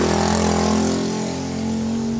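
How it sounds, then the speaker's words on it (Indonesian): A motorcycle engine drones loudly close by as it passes, the low buzzing tone holding steady and then easing slightly as it moves on. "Ada motor lagi guys"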